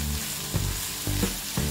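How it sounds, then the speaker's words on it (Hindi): Chutney ingredients frying in a pan on a gas stove for a South Indian idli and dosa chutney, a steady close sizzle with three soft stirring scrapes spaced across it, no voices. "हमने 2 मिनट तक फ्राई कर लिया है।"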